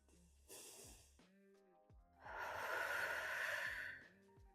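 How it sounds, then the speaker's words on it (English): Slow, deep breaths during a guided breathing exercise: a soft inhale, a pause, then a long, loud, airy exhale lasting nearly two seconds over faint background music. "Let's take a few more breaths here."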